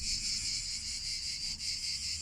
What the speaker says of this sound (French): avec les grillons en plus